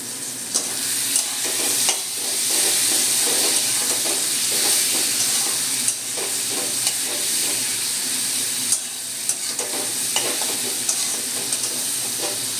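Spice paste of cumin and coriander powder with a splash of water fried and stirred in a pan, a loud, steady steamy sizzle with occasional spatula scrapes and clacks throughout, close up and without speech.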